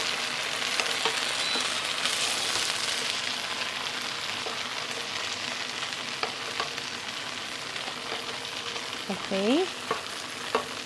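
Kofta meatballs fry in a pan with a steady, close sizzle throughout, broken by a few utensil scrapes and a brief clatter near the end as they are moved, while a voice speaks briefly.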